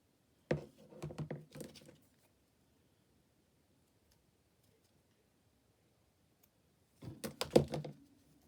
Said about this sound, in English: Actually, maybe I'll cut it down a bit so it does fit on nicely. Grab out my pinking shears.